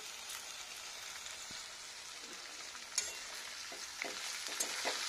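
Shredded cabbage frying in a pan with cumin, fennel and dried chilli, a soft continuous sizzle with gentle scraping stirs and a few light clicks of the spatula, fairly quiet and without speech.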